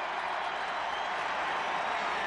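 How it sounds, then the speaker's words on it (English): A stadium crowd at a CFL football game, Shreveport Pirates at Toronto Argonauts, cheers in a steady, dense roar that holds loud and even throughout with no break. "you hear the crowd there celebrating, cheering rather"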